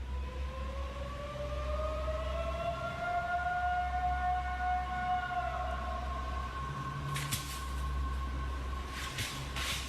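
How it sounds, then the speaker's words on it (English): Long wailing howls said to come from Bigfoot in a rainforest-like setting: drawn-out tones that rise and sweep, sometimes overlapping, over a steady low background rumble with no talking. "Sounds like a rainforest with sound like monkey howls."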